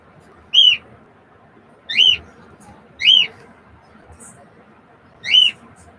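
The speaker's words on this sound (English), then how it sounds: "that's my in-laws bird" A pet bird calls indoors with four sharp, high whistled chirps, each short and evenly spaced over a quiet room background.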